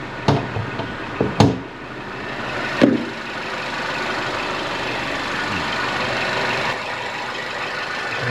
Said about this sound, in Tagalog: Ayan po yung makina niya.